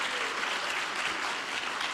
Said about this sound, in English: you can clap for that, absolutely